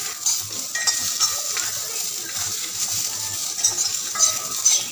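Chopped ginger and onion for a ridge gourd peel chutney sizzle in hot oil. Light scraping stirs come through close by in a loose rhythm, with no talking.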